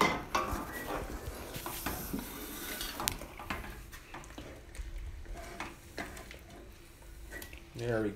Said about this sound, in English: Just stir it so it gets incorporated